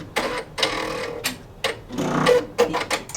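A Brother PR 1055 multi-needle embroidery machine locks and trims its thread, giving a series of sharp mechanical clacks and short whirring bursts, close and uneven, with no talk.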